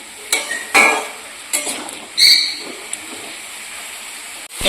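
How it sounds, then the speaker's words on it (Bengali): Small fish frying in a pan without salt ahead of adding spices for a Bengali chochchori, with scattered stirring scrapes, utensil clinks and brief sizzling bursts against a quiet background. "নুন ছাড়াই এটাকে একটুখানি ভাজা ভাজা করে দিয়ে তারপরে সব মশলা দিয়ে কষাবো"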